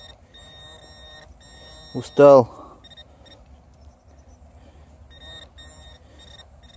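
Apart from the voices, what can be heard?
metal detector beeping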